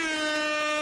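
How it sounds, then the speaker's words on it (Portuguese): A single loud, steady blast of an air horn, close and sustained for just under a second. "Então, solta a buzina aí, Nakamura!"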